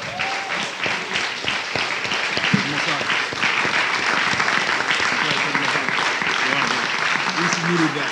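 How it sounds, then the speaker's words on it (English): A church audience at a Bible class breaks into sustained, even applause, with voices calling out over the clapping throughout. "Let's give the Most High a round of applause."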